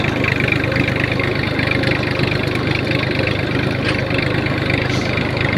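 A tractor engine runs steadily on a farm, a continuous low, throbbing drone with a mid-pitched knock that holds even and loud from start to end, with no talk over it.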